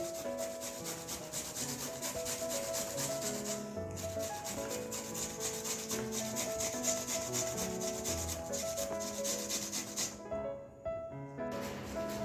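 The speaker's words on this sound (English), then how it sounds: "This seems like a family pastime to grate carrots." Carrots are grated by hand for carrot halwa, a steady rhythmic rasping and rubbing at close range that runs almost unbroken, with one brief pause.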